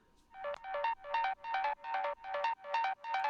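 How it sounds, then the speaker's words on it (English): A subtle synth arpeggio loop from a hard techno track plays alone as a quick series of bright, ringing note bursts, about eight evenly spaced pulses repeating in a tight rhythm. "I found this rack that makes this arp sound."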